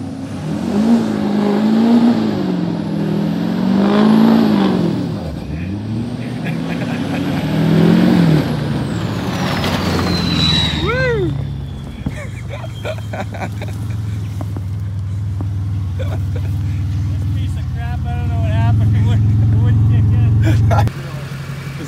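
A diesel Chevy truck racing a Buick: loud engines revving in rising and falling surges, then a high whine and a steady low drone, with people talking over it.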